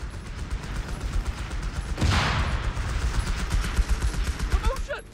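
Rapid gunfire and machine-gun bursts rattle through a Company of Heroes 3 battle, with a loud blast near the middle and shouted voices mixed in over the constant shooting.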